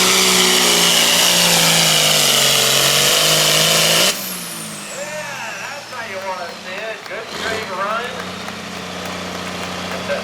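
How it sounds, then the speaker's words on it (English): A Case agricultural tractor runs at a loud, steady engine drone that cuts off abruptly partway through, leaving a lower rumble and a quieter background. "that's a case tractor"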